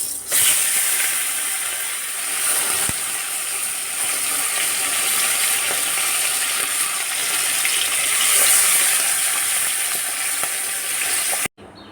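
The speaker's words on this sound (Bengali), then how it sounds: "এদিকে আমি ভাজবো মাছ" Fish fries in a pan in a home kitchen, a steady loud sizzling hiss with bubbling oil that runs on without a break, then cuts off abruptly at the end.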